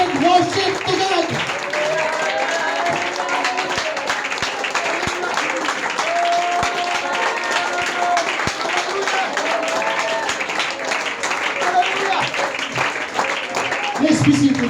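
A church congregation claps and cheers during a worship service, a dense steady wash of applause from many hands filling the room, with voices calling out over it throughout.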